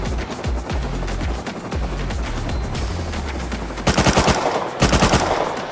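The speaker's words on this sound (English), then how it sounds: "Fire that gun. Shooting up there." Automatic gunfire in a video game rattles in rapid, continuous bursts, close and loud, with two sharper, heavier volleys near the end and no talk over it.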